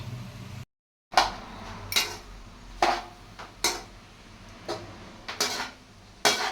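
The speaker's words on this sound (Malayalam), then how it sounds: "റൈസ് ഇട്ടതിന് ശേഷം ഇനി ഒന്ന് മൊത്തത്തിൽ ഒന്ന് നന്നായിട്ട് ഇളക്കി കൊടുക്കുക" A spatula stirs Schezwan veg fried rice in a metal pan, giving roughly a dozen sharp, close clinks and scrapes at an irregular pace, with no talk.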